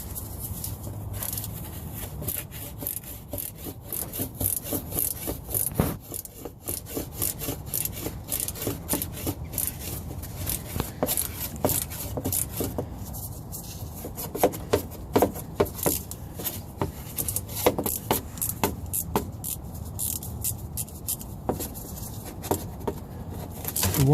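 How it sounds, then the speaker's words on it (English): A 6mm socket working the fuel filter clamps on a VW Passat 1.8T, heard as steady scraping, rubbing and ratcheting clicks, close and moderately loud, continuing for a long stretch without speech. "So what I'm gonna do now is just release these clamps."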